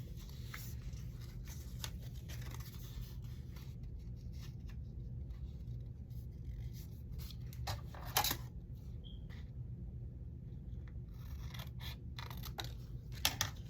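Scissors trim and round the corners of a paper strip cut from repurposed packaging, making quiet, close snipping and scraping over a faint steady background hum, with no talk.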